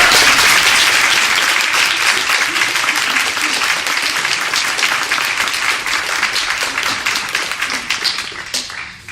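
Sustained audience applause welcoming author Novella Carpenter at a city farm book talk, dense and close, holding steady for several seconds before tapering off at the end.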